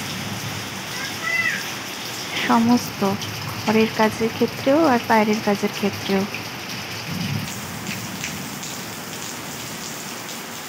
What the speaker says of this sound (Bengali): কারণ আস্তে আস্তে আরো জোরে হচ্ছে বৃষ্টিটা।